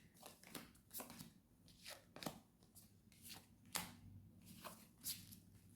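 Tarot cards are shuffled with a rapid series of crisp riffling snaps and soft flutters, close and fairly quiet.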